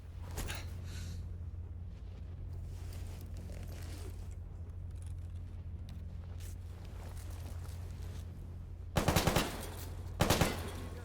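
Gunfire exchange in the video game S.T.A.L.K.E.R. GAMMA: distant scattered shots and a low steady hum, then two loud bursts of rapid automatic fire near the end.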